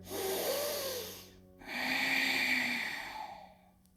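Slow, deep breaths drawn in during a yoga session in boat pose (Navasana): two long, close breathing sounds, the second fuller and longer, each with a faint hum.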